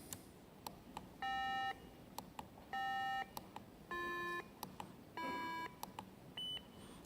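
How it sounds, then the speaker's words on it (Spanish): An accessible technology device sounds a series of electronic tones, five clear sustained beeps at different pitches, each about half a second long, spaced over a faint background hiss and a few short clicks. "Ese pitido, que es una frecuencia que está,"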